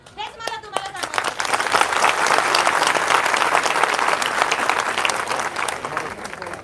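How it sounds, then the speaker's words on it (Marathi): A crowd at a protest in Nashik claps for Roshnitai: after a voice at the start, a loud, dense, sustained wave of applause builds and holds, then tapers slightly at the end. "एकदा रोशनीताईसाठी अजून एकदा टाळ्या वाजवा"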